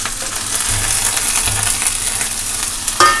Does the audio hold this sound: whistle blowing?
no